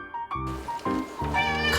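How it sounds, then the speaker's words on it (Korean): A pet cat meows indoors in a quick run of several loud, close, drawn-out calls, one after another. "우리 집 막내 개냥이 꿀설이에요"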